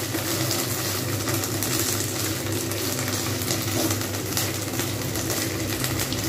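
Okra sizzles steadily in a pan while being fried for a Bengali mustard okra dish, a continuous even crackle with a faint background hum and no talking.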